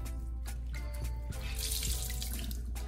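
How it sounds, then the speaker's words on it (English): Tap water runs steadily into a sink to rinse off a spin care system, a continuous splashing wash with no voices. "So I'm gonna rinse it off."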